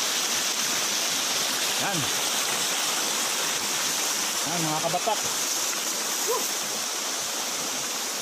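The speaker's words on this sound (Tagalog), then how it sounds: "Batis ba tawag dito?" Stream flowing at Adarna Falls in Bulacan during the rainy season, a constant loud broadband rush of water with someone speaking briefly over it.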